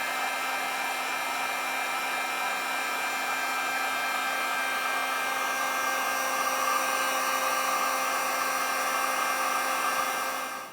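A heat gun blows steadily while shrinking heat-shrink wrap over headlight wiring on a 1999–2006 Chevrolet Silverado 1500, a constant close whirring hum that holds level for about ten seconds, then cuts off, with no talking.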